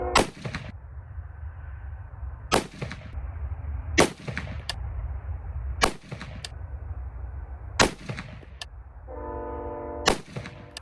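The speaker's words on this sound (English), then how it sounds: "We're going to shoot 2 3-shot groups." An AR-15 rifle firing hand-loaded rounds with new primers in three-shot groups, six sharp loud reports spaced about two seconds apart, each ringing out briefly, with a faint electronic beep near the end and no talking.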